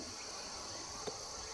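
Steady insect chirping, likely crickets, fills the night air at a remote mountain dam during a bass fishing trip, a continuous high buzzing drone with a brief faint tap partway through.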